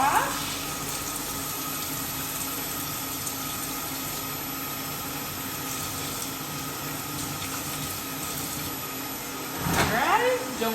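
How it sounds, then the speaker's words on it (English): Water runs steadily from a sink tap as hands are washed, a constant close rushing flow that ends with a brief splashing shift at the end; a voice talks over it. "Give your hands a good wash."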